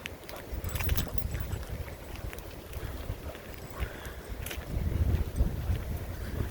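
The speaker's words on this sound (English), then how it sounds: "Nice windy day." Wind gusts buffet the microphone at a river park, a low rumbling roar that rises and falls across the whole stretch, with a few faint knocks and scrapes nearby.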